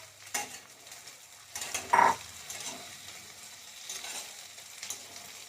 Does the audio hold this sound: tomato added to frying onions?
yes